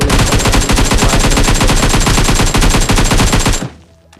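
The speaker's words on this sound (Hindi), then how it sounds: "मैं फायर नहीं करता, फायर करता हूँ" Automatic gunfire in the battle royale game PUBG Mobile rattles in one loud, continuous burst of rapid shots lasting several seconds, then cuts off abruptly into near silence.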